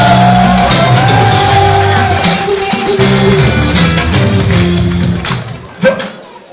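A loud audience at an inauguration ceremony for a new federation headquarters in Luanda erupts in shouts, whoops and cheers. The noise is continuous and close, then tapers off at the end.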